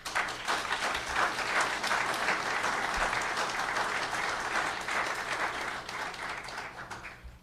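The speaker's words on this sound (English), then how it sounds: "I would love to allow everyone to applaud after every answer or comment that they agree with" Audience at a political debate breaking into sustained applause, a dense even burst of many hands clapping in a hall that fades slightly toward the end.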